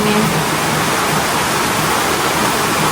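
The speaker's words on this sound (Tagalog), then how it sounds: "Ayan po at Lumakas na po ang ulan" Heavy rain pours steadily at close range over a house, a dense, constant broadband hiss with no pauses, loud throughout and with no voices.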